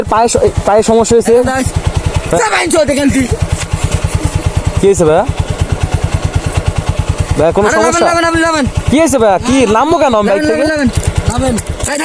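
A motorcycle engine idles with a steady, loud pulsing throb throughout, largely beneath continuous excited talking voices.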